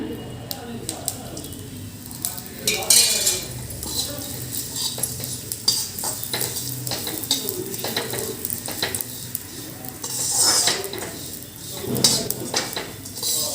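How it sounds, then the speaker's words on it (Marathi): Cumin seeds roast in a spoonful of oil in a pan, giving a low sizzle punctuated by frequent scrapes and clinks of a spoon against the metal, with a voice talking over the cooking. "यात आपल्याला आता जिरे सुद्धा भाजून घ्यायचे याला सुद्धा एक चमचाभर इतपत तेल घालायचं आपल्याला"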